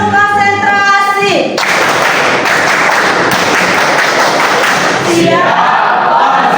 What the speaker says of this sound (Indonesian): Ibu minta kita bersama melakukan tepuk konsentrasi.